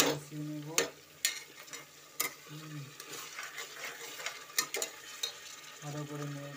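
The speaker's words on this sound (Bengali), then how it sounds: "ভালো করে নেড়ে চেড়ে নিচ্ছি যতক্ষণ না এটা মধ্যে ভালো একটা পেস্ট গন্ধ বেরোচ্ছে, ততক্ষণ আমরা নেড়ে নেব।" A spatula stirs and fries spice paste in a pan, with sharp scraping clicks at irregular intervals over a low, steady sizzle; close and moderately loud, with no talking.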